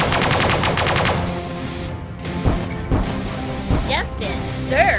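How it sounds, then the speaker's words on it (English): Laser fire in the space combat game Sunrider comes as several sharp, punchy blasts spaced through the second half, following a dense harmonic drone at the start, with bright zapping sweeps near the end. "I'm firing my lasers!"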